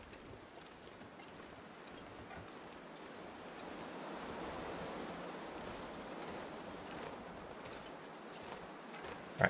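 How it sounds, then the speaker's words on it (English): Steady broadband whooshing of strong storm wind in the video game The Long Dark, rising slightly toward the middle and holding on without a break; no voices. "it's really windy"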